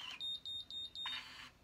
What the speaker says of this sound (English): now that beep was saying, Stephanie, quit.